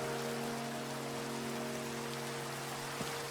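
Rain falling in the Minecraft video game, a steady dense hiss of raindrops on surfaces, constant and even, with a faint steady hum underneath.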